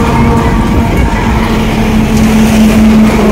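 On a rural road, a car passes close to a cyclist with a loud, steady engine and tyre roar that fills the whole moment without a break.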